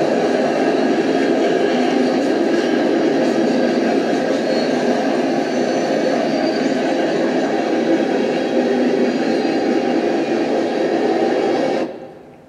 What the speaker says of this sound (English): This train happened at 160. Really good looking train.